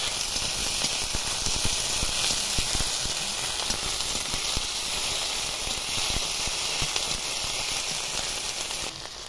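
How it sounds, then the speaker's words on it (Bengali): Ginger and coriander paste fries in a pan with a loud, steady sizzle and hiss that holds evenly throughout, with no voices over it. "আদা বাটা, ধনে বাটা, দিয়ে ভালোভাবে কষিয়ে নেব।"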